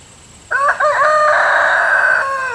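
A rooster crows loudly and close by, one long drawn-out call with a brief break early on, standing alone without talk.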